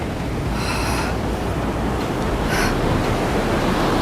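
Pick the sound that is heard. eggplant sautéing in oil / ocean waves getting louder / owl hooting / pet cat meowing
ocean waves getting louder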